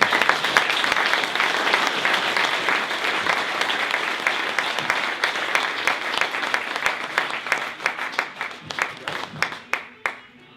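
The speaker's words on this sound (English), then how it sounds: "Everybody, please give a big round of applause for Ron McKeefery." Conference audience at the IYCA Summit 2017 applauding Ron McKeefery's introduction: dense, steady clapping from a full room that thins into scattered claps and fades out near the end.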